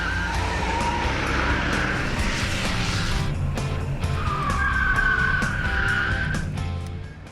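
Stock Camaro with a 305 V8 engine driving an autocross course in a paddock, engine roaring steadily with tires squealing and skidding through the turns, loud and close throughout.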